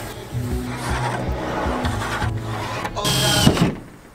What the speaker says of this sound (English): The exhaust fan today, so gotta cut a hole in the roof.